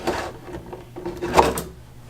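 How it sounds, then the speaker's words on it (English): A wooden drawer, with its bottom rails removed during a soft-close fitting, slides all the way out in a couple of rumbling, scraping runs with a brief knock partway through, heard close up. "And then this drawer will be able to slide all the way on out"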